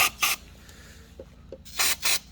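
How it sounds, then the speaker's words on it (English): Brake cleaner sprayed from an aerosol can into the oil filter housing of a 2014 Jeep Grand Cherokee 3.6L V6, four short loud hissing bursts, two at the start and two near the end, over a low steady hum. "Just get your brake can and then just spray inside"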